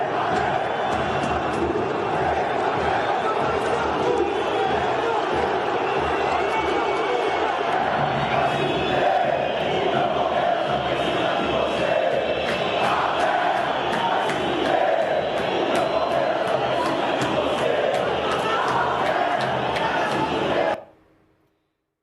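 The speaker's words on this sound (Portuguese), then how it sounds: "Tá aí então a manifestação da torcida ou de parte da torcida" Palmeiras supporters massed in a stadium, loud continuous crowd chanting and shouting of insults in protest, a dense roar throughout that cuts off abruptly near the end.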